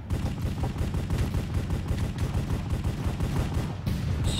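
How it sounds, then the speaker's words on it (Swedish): Rapid gunfire in a Minecraft Hypixel Cops and Crimes match, dense bursts of shots running continuously and loudly throughout, with no talking. "Jag stod och sköt typ 3000 skott i han."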